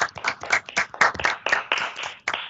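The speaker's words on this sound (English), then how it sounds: "Please turn on your microphones and clap for these guys." Students in an online English class clap for their presenters over open microphones, a loose, uneven run of about a dozen close hand claps in quick succession.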